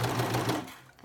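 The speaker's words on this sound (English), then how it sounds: "Go ahead and serging it in there." A serger sews clear elastic into a fabric seam, giving a brief, close, rapid mechanical whir that slows and stops within a second.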